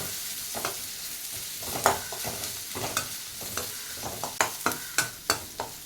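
Ingredients for spinach (siru keerai) kadayal are sautéed golden in a pan, with a steady close sizzle broken by the scrape and clack of a spatula stirring, and no voices.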